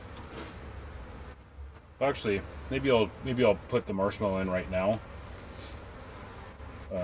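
Honey bees from a newly installed package buzz softly around an open hive, a faint continuous drone beneath a person talking close by in the middle of the clip.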